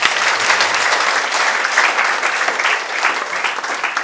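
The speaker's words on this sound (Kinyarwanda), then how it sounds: "Komera Imana amashyi." A church congregation bursts into steady, loud applause filling the hall, a dense continuous wash of clapping with no voices rising above it.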